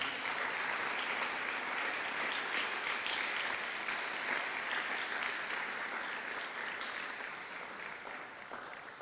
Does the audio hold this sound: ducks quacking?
no